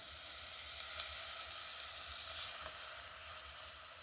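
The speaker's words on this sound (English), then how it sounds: "Then I pour some cooking oil." Cooking oil sizzles in a pot with onions over an outdoor village fire on a rainy evening, giving a steady, fairly close hiss and crackle that stays even throughout, with no voices.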